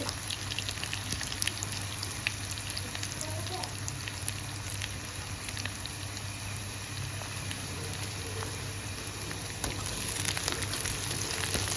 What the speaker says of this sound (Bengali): চিংড়ি মাছগুলো ভাজা হবে পেঁয়াজগুলো ভাজা হবে